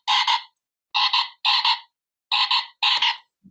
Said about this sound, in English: here's the frog.